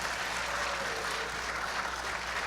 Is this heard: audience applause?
yes